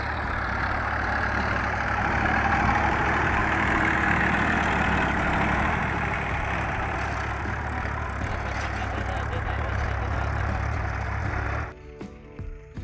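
A tractor engine running steadily while ploughing a field for winter sowing, a loud continuous rumbling drone held close throughout before dropping away abruptly at the end.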